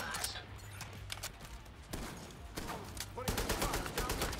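Gunfire from The Division 2 crackles in several rapid bursts and single shots amid game effects, while a player talks over the action.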